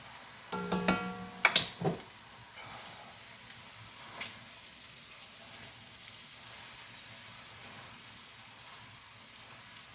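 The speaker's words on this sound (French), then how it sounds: "Je vais remuer." Stir-fried shrimp noodles sizzle in a pan while being stirred, with a few clattering utensil scrapes and knocks early on, then a soft, steady frying hiss.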